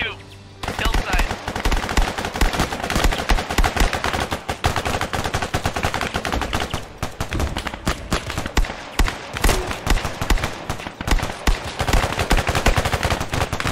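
Sustained gunfire in a military shooter game, dense bursts of automatic rifle and machine-gun fire crackling loudly and almost continuously, with only brief pauses between volleys.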